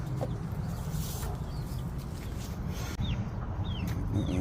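Chickens cluck and chirp softly in short scattered bursts over a steady low background hum, with no one talking.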